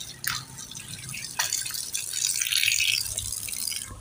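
Water splashes and drips from a tap or poured stream as someone washes their head on a hot day in a village, with irregular close splashing and trickling throughout.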